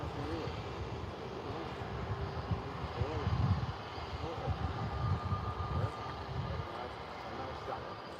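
Boeing 787 airliner taking off at Manchester Airport, a steady distant engine roar with a low rumble that swells slightly midway, heard alone without talk.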